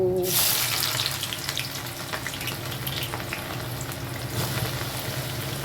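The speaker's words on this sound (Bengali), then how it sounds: "ঘি গরম করতে দিয়ে দিয়েছি তো এই তো গরম হয়ে গেছে এখন আমি পেঁয়াজগুলো দিয়ে নেব" Onions frying in hot ghee for crisp fried onions, giving a steady close sizzle and crackle throughout with a brief sharper burst at the start.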